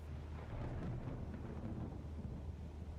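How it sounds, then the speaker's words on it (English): Deep, steady rumbling thunder rolls on continuously inside a flight simulator game, loud and broad like a storm heard from within a cockpit, with no voices over it. "Where is that thunder coming from?"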